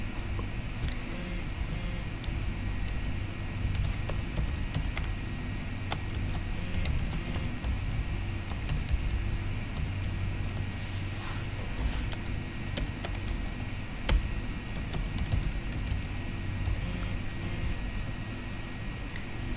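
Someone types on a computer keyboard, a long stretch of faint, scattered key taps heard over a steady background hum and hiss.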